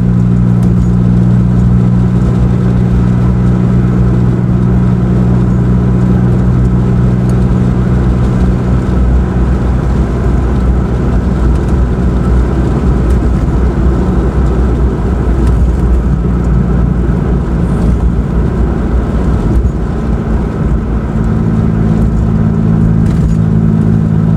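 A car engine drones loudly and steadily while driving, a continuous close hum with road noise that holds at an even level for the whole stretch and never clearly climbs into a rev.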